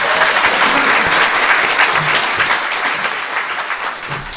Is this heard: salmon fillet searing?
no